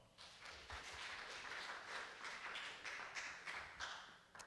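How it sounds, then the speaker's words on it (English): Audience at a live university finalist presentation event gives a round of applause, a dense, steady wash of many hands clapping that carries on evenly throughout, moderately loud and without voices. "Big round of applause for all of them."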